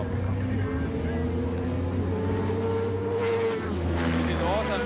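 Ducati 999 racing motorcycles run laps at Katukurunda circuit, one bike lapping a slower rider; a steady, loud engine drone fills the track with rising whines near the end, under an excited commentator's voice.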